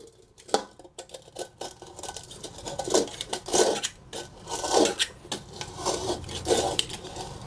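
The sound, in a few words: scraping burnt residue off pan bottom with large cutter blade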